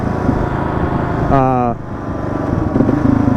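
A Kawasaki KLR650 dual-sport motorcycle rides along outdoors, its steady single-cylinder engine drone and wind rush loud and continuous, with a brief tonal whine rising and falling partway through.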